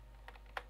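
A few quick key taps on a computer keyboard while a Minecraft game is set up, close and quiet, with two clearer clicks standing out over a steady low hum.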